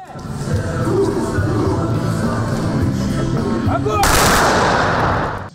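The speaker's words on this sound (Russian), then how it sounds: "Парни устроили целое представление с дымовыми шашками и стрельбой из автоматов." Loud, sustained automatic rifle fire from soldiers at a military display with smoke grenades, rapid overlapping bursts over a busy outdoor din, growing sharper and more intense near the end.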